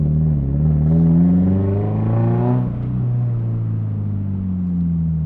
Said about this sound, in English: This is a loud exhaust.